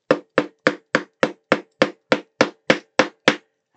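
Thirteen sharp, evenly spaced hammer blows drive a small steering rod into the steering wheel of a model Aston Martin DB5, each strike crisp and close with a quick decay.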